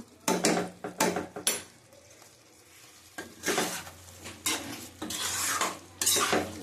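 Chicken being stirred in a pot with garam masala powder, a metal spoon clattering and scraping against the pot in bursts, with quieter pauses between, close and fairly loud.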